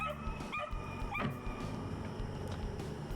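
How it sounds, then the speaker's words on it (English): A small dog yaps and barks a few times in quick bursts, high-pitched and fairly close, over a faint background hum. "I wish that little dog would be quiet"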